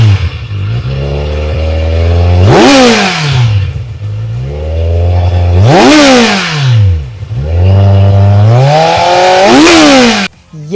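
A Kawasaki Z900 inline-four motorcycle engine with stock exhaust revs loudly three times, each rev climbing sharply in pitch before dropping back to a rumbling idle.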